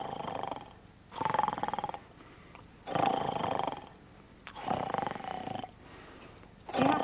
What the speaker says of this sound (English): I'm counting snores to make me tired.